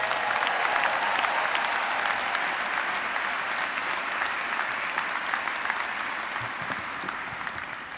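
Sustained applause from a graduation audience welcoming a speaker, a dense wash of many hands clapping at steady volume that tapers slightly toward the end, with no voices on top.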